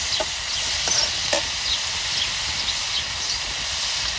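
Chopped jaggery stirred into frying lemon pickle in a pan, a continuous close sizzle and hiss with a few soft scraping strokes of the spoon.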